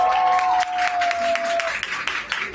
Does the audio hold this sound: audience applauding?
yes